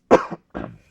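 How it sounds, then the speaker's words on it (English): Two close, sharp coughs from a man at his computer during a live stream, a harsh first burst with a short follow-up, then a second rougher cough after a brief pause, with no talk. "I know where this cough has come from that I have out of nowhere while I'm streaming"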